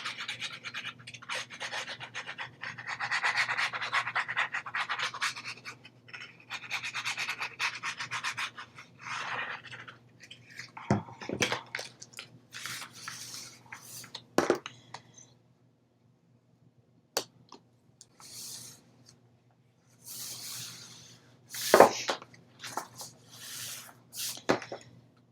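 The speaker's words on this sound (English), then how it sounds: "And burnish back the other way too." Paper hinges on a craft album are burnished by hand, giving soft, irregular rubbing and scraping strokes in bursts, with a few sharp taps and quiet gaps between.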